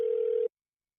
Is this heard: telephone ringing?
yes